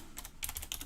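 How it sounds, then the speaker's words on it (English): A quick, quiet burst of keystrokes on a computer keyboard, several light clicks in uneven rhythm, close and isolated. "I will type it in again."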